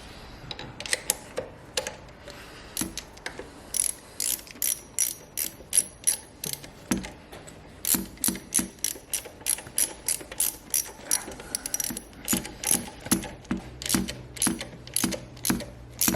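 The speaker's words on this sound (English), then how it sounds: "you want to put all 3 bolts back in and just slowly tighten them up as you go around in circles" A hand ratchet tightens the injector pump bolts on a Ford Ranger engine, with rapid clicking in repeated bursts of short, crisp pawl clicks, close and clear, pausing between strokes.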